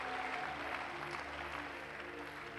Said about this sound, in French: Acclamons Dieu pour leur vie.